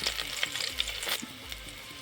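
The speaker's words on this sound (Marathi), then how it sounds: "थोडासा कढीपत्त्याची पाने टाकलेली आहेत, लसूण टाकलेलं आहे फोडणीवरती" Garlic and curry leaves sizzling in hot oil with mustard seeds for a tempering, a brief close crackling fry with small pops and no talk.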